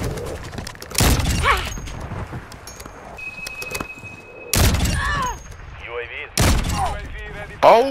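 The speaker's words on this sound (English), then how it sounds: "He's shooting from junkyard" Gunfire in a shooter video game, sharp loud bursts of shots near the start, middle and end, with quieter game sounds and mechanical noises between them.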